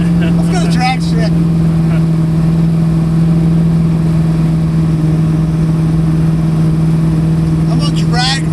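A built, cammed 1988 Ford Mustang Foxbody revs hard at a drag strip while losing traction in cold weather, its engine a steady, loud, close drone.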